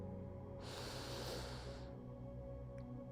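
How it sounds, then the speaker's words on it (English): A long, deep exhale through the nose during a gentle yoga flow, a single soft breathy rush lasting about a second amid quiet room hum. "And exhale through the nose."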